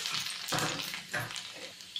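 Garlic hits hot mustard oil in an iron wok, giving a loud, close crackling sizzle that swells in bursts as the pieces spread, steady for the whole moment with no talking.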